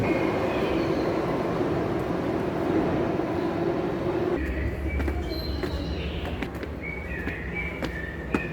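A Bangalore Metro Purple Line train arriving at a station platform, a steady loud rumble of rolling carriages with a deeper low rumble joining partway through, plus faint squeals and clicks near the end.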